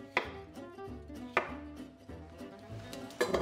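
A kitchen knife chops vegetables such as carrots on a board while a roast dinner is prepared, giving a few sharp, close cutting strokes spaced about a second apart, with some faint clatter between them.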